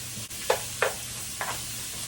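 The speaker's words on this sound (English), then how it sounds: "You hear the sizzle? That's what you want." Chicken sizzles steadily in a hot pan, with a few sharp clinks of a utensil stirring or scraping.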